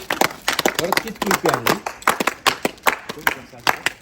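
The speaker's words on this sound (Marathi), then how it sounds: "त्याच्यासाठी एकदा टाळ्या वाजव रे" A group claps in quick, uneven bursts at a Maghi Ganeshotsav arrival celebration in the Konkan, with voices talking and calling over the applause.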